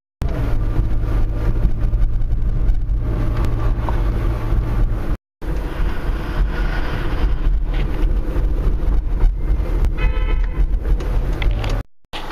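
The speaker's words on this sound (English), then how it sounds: "this Queen Street has got tons and tons of people and cars. It's totally hopping." Traffic hums along busy Queen Street in Toronto, with a continuous loud engine rumble from passing cars and a brief toot, with no talking.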